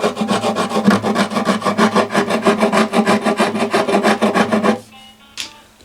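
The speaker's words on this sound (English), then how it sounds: "I'm not going to sit here all day scraping" A steady, rhythmic rasp as a scraper strips lacquer finish from the wooden bridge of a classical guitar, about two strokes per second, close and loud, stopping near the end with a small clink.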